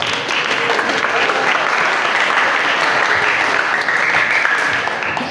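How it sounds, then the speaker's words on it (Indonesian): Audience applause fills a gathering during a Quran recitation practice session, steady dense clapping sustained loudly throughout with no talking over it. "Tepuk tangan dulu, tepuk tangan."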